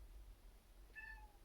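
A rescue cat gives a single clear meow indoors near an open door, faint against a steady low hum in a quiet room.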